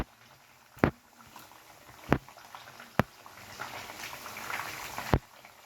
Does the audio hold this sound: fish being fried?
yes